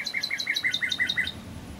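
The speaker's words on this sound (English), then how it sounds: "I love the birds. It's a great sound effect." Birds chirping as a sound effect during a yoga class, a steady run of bright, evenly spaced tweets repeating about every tenth of a second over a soft low background.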